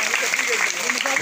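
Audience at a village magic show in India clapping loudly and steadily, a dense, continuous patter of applause filling the whole moment, with some voices mixed in.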